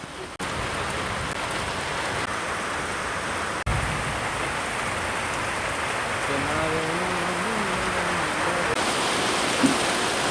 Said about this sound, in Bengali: বৃষ্টি পড়তেছে, খুব ভালো লাগতেছে আজকে বৃষ্টির দিন সকালবেলা